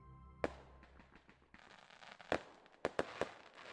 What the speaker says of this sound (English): now we can hear those fireworks